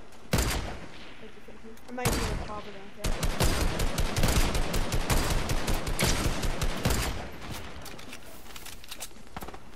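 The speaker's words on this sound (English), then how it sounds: "People shooting at us from Friendship Pass too." Rapid bursts of gunfire in a Fortnite-style building and shooting game, with repeated sharp shots and fast automatic strings crackling through most of the span, loud and close, while players talk briefly.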